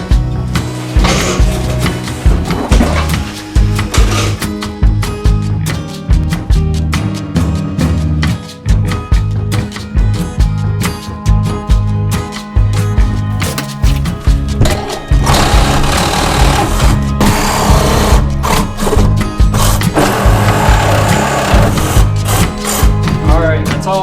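A power tool cutting through bolts while renovating a workshop, loud grinding and rattling bursts that stop and restart in short runs, then a long steady stretch of cutting.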